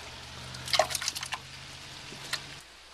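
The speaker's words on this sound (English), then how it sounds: "Start by putting the potatoes in the water now." Potatoes dropped into a pot of water in a home kitchen make a quick cluster of close splashes and plops, followed by one last small splash and then quiet.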